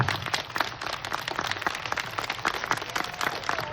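A cinema audience claps to welcome a director and two actresses to a screening of the Anita Mui film, steady dense applause filling the space at moderate level.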